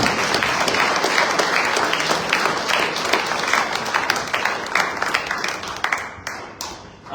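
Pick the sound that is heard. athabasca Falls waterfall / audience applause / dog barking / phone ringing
audience applause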